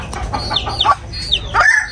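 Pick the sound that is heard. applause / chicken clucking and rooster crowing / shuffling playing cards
chicken clucking and rooster crowing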